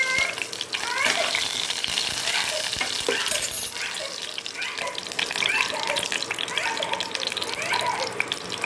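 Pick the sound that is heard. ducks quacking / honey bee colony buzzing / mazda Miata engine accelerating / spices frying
spices frying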